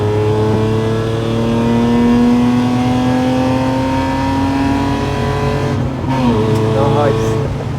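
BMW E36 engine revving hard on a wet, slippery track, a steady loud drone with rising harmonics throughout, dipping and shifting near the end, heard from close by with people talking over it.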